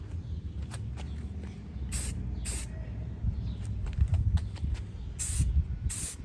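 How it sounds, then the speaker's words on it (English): Aerosol can spraying truck bed liner onto a camper frame in short, quick hissing bursts, several separate passes close to the microphone over a low background rumble. "Never working with spray paint,"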